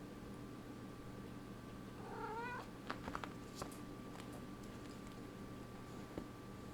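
A kitten makes a short, faint meow followed by a few soft ticks and rustles, heard close over a steady low background hum, with no talking.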